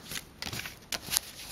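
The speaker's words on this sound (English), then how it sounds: "We put that card back in, and we give it a shuffle." A deck of game cards is shuffled by hand in a few quick riffled bursts, close and fairly soft, with short pauses between them.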